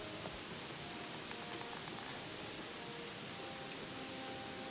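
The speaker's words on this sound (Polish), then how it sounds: "czy ten deszcz da się jakoś wyłączyć, nie? Bo to jest tragedia." Steady rain hissing down in the video game Gothic 3, a dense, even patter heard alone without talk.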